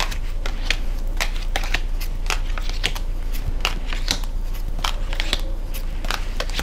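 Tarot cards laid down one after another on a table, a quick run of close, light papery slaps and flicks over a constant low background hum, with no talking.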